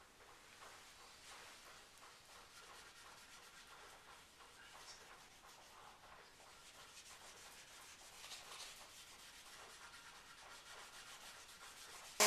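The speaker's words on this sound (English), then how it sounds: "then I take a rag and I just begin to rub it in" A rag rubs water-based finish into the top of an electric guitar body, giving a steady, soft swishing scrape that runs continuously and close up, with no talking.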